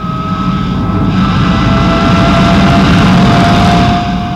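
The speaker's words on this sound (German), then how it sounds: "Der Mirage zeigt seine Steigfähigkeit und seine Beweglichkeit ebenso überzeugend wie sein schwedischer Konkurrent." Dassault Mirage jet fighter flying a climbing and manoeuvring demonstration, a loud, steady jet roar with wind-like rush lasting throughout, 1960 demonstration flight in Switzerland.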